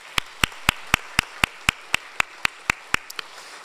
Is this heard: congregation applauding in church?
yes